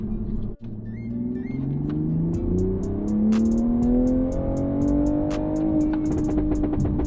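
A tuned Toyota GR Supra running E50 flex fuel accelerates hard in 4th gear, its engine note climbing steadily in a long, loud continuous pull close by, with sharp crackles toward the end.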